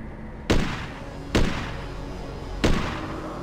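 Three loud, sharp gunshots ring out about a second apart, each ending in a reverberant tail, from the game Hitman: Codename 47 during a sniping stretch at a gated warehouse compound.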